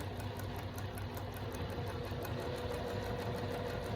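A sewing machine stitches a quilt seam over pinned intersecting points, a fast, even mechanical whir with a steady rapid beat, close but fairly quiet, with no talking.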